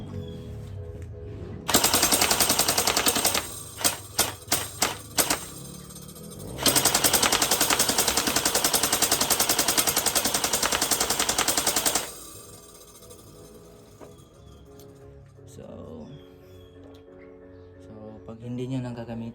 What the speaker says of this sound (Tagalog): now again let's try the full auto